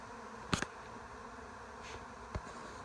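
A large honeybee swarm forming outdoors gives a steady low insect drone throughout, with a few brief louder buzzes as individual bees pass close by.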